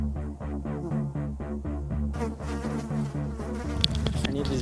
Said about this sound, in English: I need this bee to disappear.